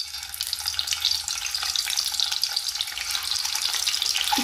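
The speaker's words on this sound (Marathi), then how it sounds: "तेल गरम झालं आहे, आता आपण त्याच्यात अंडे ठेवू." Eggs frying in hot oil in a pan for a home-style egg curry, giving a steady, dense hiss and crackle that stays even and close throughout with no talking.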